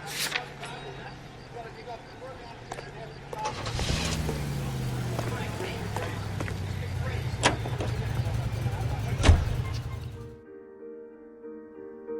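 Car engine and road noise from a vehicle driven in the video game L.A. Noire, a steady low drone that swells louder after a few seconds and then cuts off near the end, with talk throughout.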